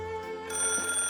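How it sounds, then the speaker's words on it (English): A telephone rings in the visual novel game Sugar Sweet Temptation, a steady electronic ring sounding continuously over a soft music bed, growing brighter partway through. "the phone starts ringing"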